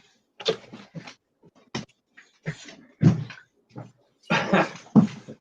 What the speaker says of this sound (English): these dogs are being a handful tonight.